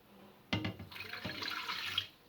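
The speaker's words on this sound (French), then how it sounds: "Ensuite, petit à petit, je rajoute l'eau." Water is poured from a jug into a bowl of flour, salt, sugar and yeast for msemen dough, a close, steady splashing trickle lasting a couple of seconds.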